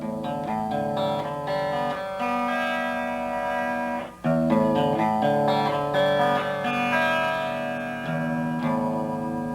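Played on a guitar with the echo effect switched off, a basic forward-roll picking pattern rings out as rapid, even arpeggiated notes, with a steady, rolling rhythm and a brief pause midway.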